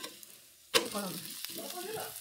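A cucumber breakfast dish fries in oil, starting quiet and then jumping to a close, crackling sizzle after a sharp clatter, with a second knock midway and a fainter voice murmuring underneath.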